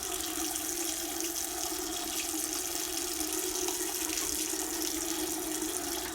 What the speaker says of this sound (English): Rinses all surfaces of hands and wrists, being careful not to touch the sink.